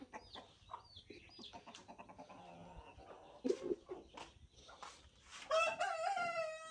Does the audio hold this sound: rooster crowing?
yes